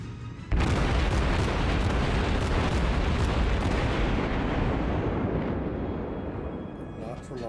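Heavy naval gunfire from warships in World of Warships erupts as a loud, dense, sustained roar of booming shots that slowly fades, with a voice talking over it.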